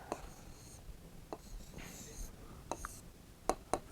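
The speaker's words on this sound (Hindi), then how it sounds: "फिर तकली लिखते हैं" A pen or pencil scratches out Urdu words by hand in short, quiet strokes, with faint taps and soft breathy murmurs between the marks.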